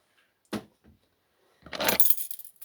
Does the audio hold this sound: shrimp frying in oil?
no